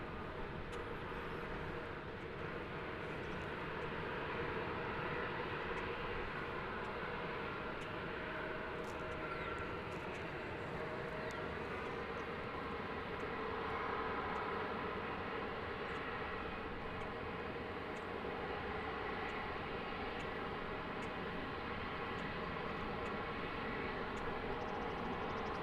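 A 22-year-old Airbus A321 airliner at DFW Airport makes a steady, distant jet engine roar that holds evenly for over twenty seconds with a faint tonal whine.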